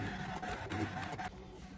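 A Brother ScanNCut cutting machine works through an A4 sheet of cards, giving a steady mechanical whirring and buzzing with a few short clicks, faint and continuous with no voices.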